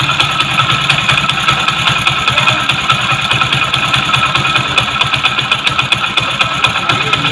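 A small motorcycle engine with a freshly adjusted carburetor petrol mixture idles close by in a fast, even, loud putter that stays steady throughout, with no other sounds on top.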